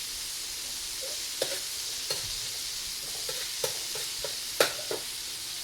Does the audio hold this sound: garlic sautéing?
yes